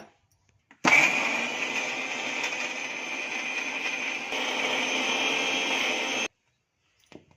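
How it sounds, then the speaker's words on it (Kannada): A mixer grinder grinds hill gooseberry (amla) paste in a steady, loud, close whirring drone that starts abruptly, runs about five seconds, then cuts off sharply. "ಈಗ ರುಬ್ಕೊಳ್ಳೋಣ"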